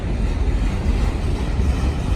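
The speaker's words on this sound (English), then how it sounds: "Tank train cars." A freight train of tank cars rolling past in Montreal, a steady low rumble and rattle of wheels on rails with broadband wind-like noise, continuous and close with no talking.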